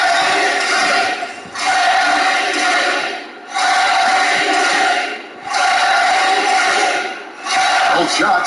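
A big basketball arena crowd in the video game NBA 2K21 roars in rhythmic waves, swelling and dipping about every two seconds like a chant, loud and continuous.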